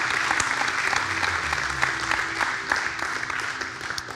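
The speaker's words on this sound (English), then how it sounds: "Let's just give a clap for the Lord." Church congregation at a Sunday service claps together, a moderately loud, even patter of many hands with a low hum of instruments beneath.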